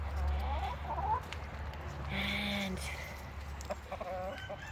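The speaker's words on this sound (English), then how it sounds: "There's an egg farm hen and an egg farm hen." Former egg-farm hens cluck softly nearby, with a brief higher call in the middle, over a low steady background hum.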